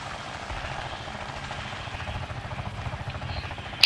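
Helicopter in the Arma 3 video game setting down troops at a landing zone, a steady rotor chop and engine drone running throughout, with a sharp loud burst at the very end.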